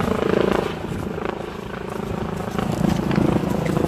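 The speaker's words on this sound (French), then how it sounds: "il y a l'hélicoptère qui est là en train de survoler" Steady low rumbling helicopter drone with a throbbing beat, continuous and fairly loud throughout, passing overhead during a street protest in Paris.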